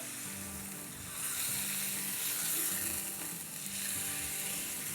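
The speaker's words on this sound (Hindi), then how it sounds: "तो बस इसे हमें फ्राई करना है जब तक कि इसका कलर चेंज ना हो जाए" Steady sizzling of bay leaves frying in hot oil for a chicken curry, with faint stirring scrapes underneath; close and continuous, no talking.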